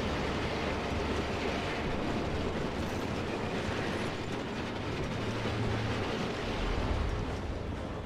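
Train rolling along in the video game Resistance 3, a dense continuous low rumble with steady broadband noise throughout, no talking.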